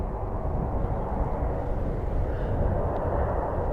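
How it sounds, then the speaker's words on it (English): MC-130 Hercules aircraft engines powering up at an airport, heard as a steady, even low roar that holds unchanged throughout, with no other sounds rising above it. "MC 130s. They're the Hercules planes. I'm sure I can hear them starting to power up and go round the back."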